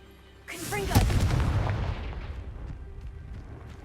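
A Confringo blasting spell from Hogwarts Legacy goes off as a single sharp boom and crackling burst that decays over a couple of seconds, following a short spoken incantation.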